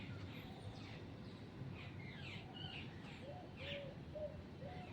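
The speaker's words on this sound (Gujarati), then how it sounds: "પક્ષીઓ ચેવો મસ્ત બોલી છે" Several birds chirp and sing faintly in the distance, with scattered short calls over a soft, steady background hum.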